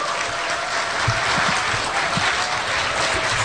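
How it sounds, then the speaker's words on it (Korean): An audience at a Korean political gathering applauds a former prime minister, dense steady clapping that stays loud and even for the whole few seconds, with no voices over it. "여러분 다시 한번 큰 박수 부탁드리겠습니다"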